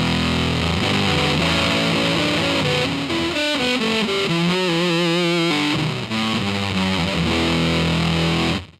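Supercool Blue Meanie fuzz and octave pedal in its raw first mode, a loud, thick, buzzing distorted guitar playing a short riff with sustained wavering chords, alone without speech.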